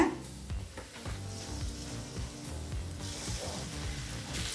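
Two eggs fry in a pan with sautéed chili powder while carrot egg rice is cooked, giving a steady close sizzle with soft stirring scrapes and faint background music underneath.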